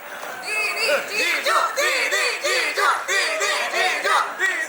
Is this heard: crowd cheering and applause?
yes